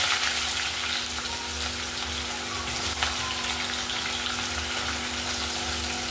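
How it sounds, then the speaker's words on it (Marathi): Sliced onion drops into hot oil already crackling with mustard seeds and cumin, giving a steady, loud close-up sizzle that hisses evenly throughout with no talking. "आता आपण याच्यामध्ये घालणार आहेत उभा चिरलेला कांदा."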